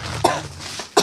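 Two short, harsh coughs from one person, close and loud, separated by a brief pause with a low hum in the background.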